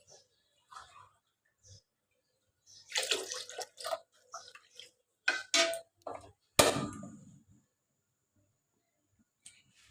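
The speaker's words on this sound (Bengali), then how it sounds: "এখন দিয়ে দিচ্ছি পরিমাণ মতো জল।" Water poured into a pot of boiled, fried mung dal in a kitchen, coming in a few short splashing bursts with clinks of utensils between them, no talking.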